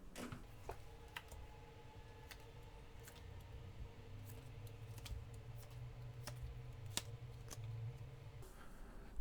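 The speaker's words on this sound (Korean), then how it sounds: "카드 뽑아볼게요." Tarot cards are drawn and handled up close, producing soft, scattered ticks and light card clicks over a quiet hum, with no one speaking.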